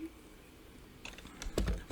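A few quick keystrokes on a computer keyboard come in near the end of a quiet stretch, sharp close taps in a small burst.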